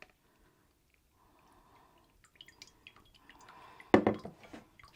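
Water drains and drips quietly from a flushed houseplant pot, with sparse soft drips building to a brief louder splash near the end before tapering off.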